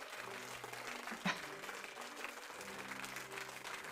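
A short burst of applause, fairly quiet and dense, with a sharp knock partway through and faint voices around it.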